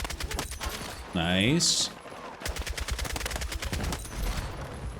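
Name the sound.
SOR assault rifle firing in Battlefield 6 video game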